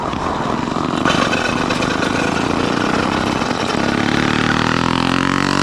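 A small motor fitted to a bicycle in the Kazakh desert runs right after starting, a loud, close, continuous buzzy drone that keeps going throughout with no voices.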